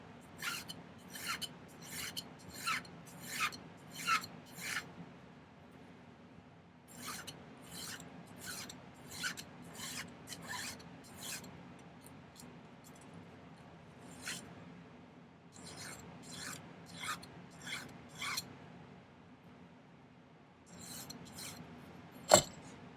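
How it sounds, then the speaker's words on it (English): A hand file rasps against a small silver bird pendant in repeated short strokes, bursts of scraping grouped in runs with brief pauses between, close and fairly quiet. "So let's do a little bit of filing."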